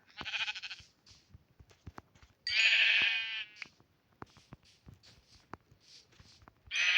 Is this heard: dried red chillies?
no